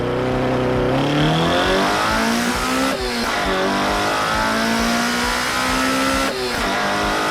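A Toyota Corolla FX16 GTS with a 20-valve engine revs loud and close, climbing through rising pitches with brief dips as gears change, then pulling hard again, with no talk.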